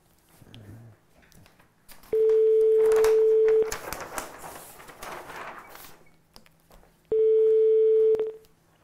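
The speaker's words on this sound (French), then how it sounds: "Allez Dylan, on appelle." A telephone ringback tone sounds while a call is being placed, with two long, steady electronic tones separated by a pause and some faint room noise and movement between them.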